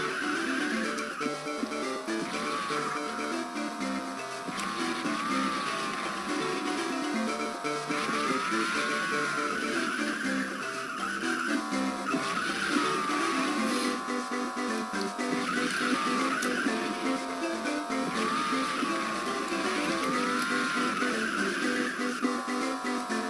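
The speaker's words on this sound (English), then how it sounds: "I'm drifting really bad right here" Karts in the Nicktoons Racing game skid and drift with a steady, wavering tire screech over a constant engine drone, looping through turns without a break.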